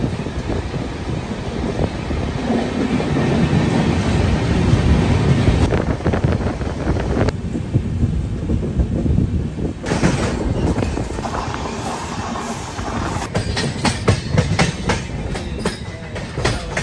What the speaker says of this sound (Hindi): फाइनली हमारा ट्रेन निकल चुका है गोरखपुर एक्सप्रेस को पास देकर।